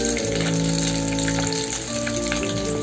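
Bread cheese rolls frying in hot oil bubble and crackle continuously, partly masked by a steady tonal background hum.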